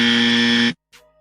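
A loud, harsh electronic buzzer blares steadily for under a second, then cuts off abruptly, followed by a faint brief noise.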